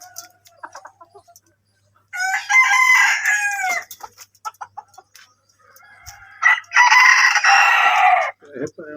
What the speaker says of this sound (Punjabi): ਉਹ ਦੇਸੀ ਜੀ ਹੈ ਮੁਰਗੇ।